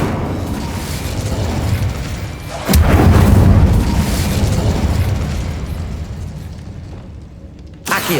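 Incendio fire spell in Hogwarts Legacy, a roaring, crackling flame rush that swells with a heavy whoomp partway through, then gradually fades, with a brief sharp burst at the very end.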